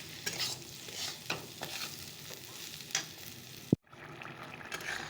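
Broken wheat (dalia) frying in a pan with steady sizzle and repeated scraping strokes of stirring, close and fairly loud, with a sharp clatter near the end.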